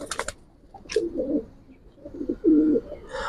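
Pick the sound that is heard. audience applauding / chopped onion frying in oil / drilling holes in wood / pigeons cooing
pigeons cooing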